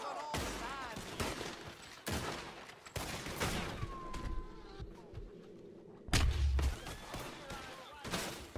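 Gunfire in the video game Red Dead Redemption 2 during a ranch shootout: repeated bursts of shots and fusillades crackle throughout, with a few heavy booming hits, over intermittent talk.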